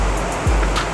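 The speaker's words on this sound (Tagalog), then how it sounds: "sobrang lakas ng tubig. Sobrang puno na kasi siya, maapaw na eh." Water from the overfull Bustos Dam reservoir rushes over the spillway, a loud, steady roar of torrential flow that holds constant through the whole moment.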